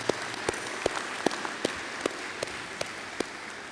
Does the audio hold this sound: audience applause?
yes